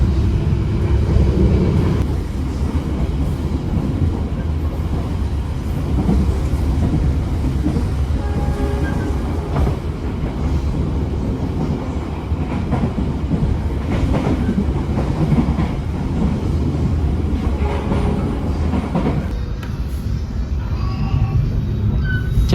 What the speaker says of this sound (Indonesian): Jam 2:11 kereta komuter lain Supas tiba di stasiun Waru